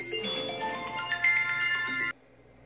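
A phone ringtone plays loudly and close for about two seconds, a bright repeating melodic tune that cuts off abruptly, leaving quiet room tone, during a house tour of a bathroom and bedrooms.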